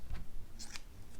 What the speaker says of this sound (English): So then you grab your scissors,